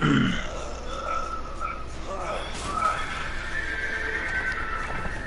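Horse whinnies in the video game A Way Out ring out over a busy mix of background noise and voices, with a loud neigh near the start and more calls following.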